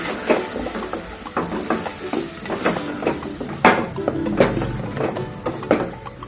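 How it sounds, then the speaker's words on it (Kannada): Tomatoes with turmeric powder stirred in a hot pan over medium heat, a spatula scraping in steady repeated strokes over a continuous close sizzle, fairly loud, with no talking. "ಚೆನ್ನಾಗಿ ಮಿಕ್ಸ್ ಮಾಡ್ಕೊತೀನಿ"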